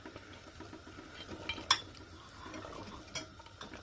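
A spoon stirs cumin powder and spices into mutton korma in a pot, scraping and clinking faintly against the metal with one brighter clink, soft and close, no talking.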